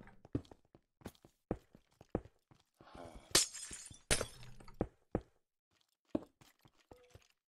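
Glass shattering in a fantasy video game, a crash of breaking shards standing out among sparse game thumps and footstep-like knocks, loud and close for a few seconds.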